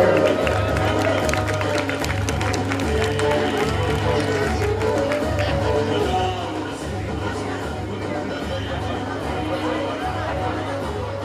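Steady applause from an audience at a Ramlila awards ceremony in Azad Pur, continuous and fairly loud throughout, with crowd chatter mixed underneath and some background music.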